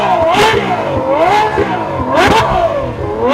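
A McLaren 570S and a Ferrari F12 go head to head in a drag race, loud engines revving and surging with rising and falling pitch, continuous and close.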